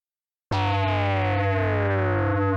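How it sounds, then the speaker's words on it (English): Ring modulation on SID chip synth channels, with one channel holding a note while the other drops from high to low. The result is a harsh, buzzing metallic tone with crossing pitch lines that starts abruptly and sustains loudly. "I'll switch ring mod back on again."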